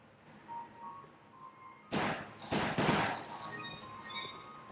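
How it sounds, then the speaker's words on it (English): Gunfire in the video game Umbrella Chronicles, with two loud bursts of rapid shots in the middle of the stretch. Quieter game sounds come before and after them, and there is no talk. "I'm getting tired of shooting you."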